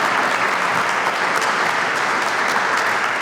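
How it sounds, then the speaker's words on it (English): Loud, dense audience applause at a community appearance awards ceremony, a steady wash of many hands clapping continuously from start to finish with no talk over it. "let's give our winners another round of applause to all of them"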